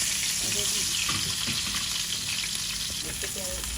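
Oil frying in a wok (kadai) during home cooking for a Bangla fish, eggplant and potato dish, a steady loud crackling hiss throughout with a few stirring clinks.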